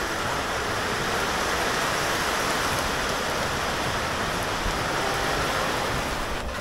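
Steady, dense rainfall hissing evenly over a market street decorated for the Ganesh festival, continuous and uniform throughout with no voices.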